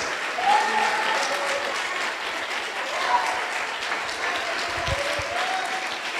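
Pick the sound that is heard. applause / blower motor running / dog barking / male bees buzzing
applause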